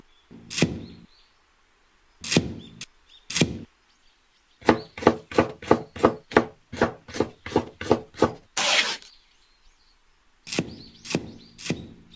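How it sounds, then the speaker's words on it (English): A kitchen knife chops onions and green peppers on a board: a few single cuts, then a quick even run of about a dozen chops, a short scraping swipe, and a few more cuts, close and crisp. "cut it and then chop it very nicely"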